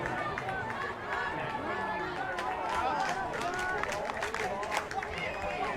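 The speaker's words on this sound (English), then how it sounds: "You can hear the Switzerland women's team starting to cheer for them." Switzerland women's U17 team cheering from the sideline at an Italy vs Switzerland open U17 ultimate frisbee match, a steady crowd roar of excited voices and chatter filling the whole stretch, loud and continuous with players running nearby.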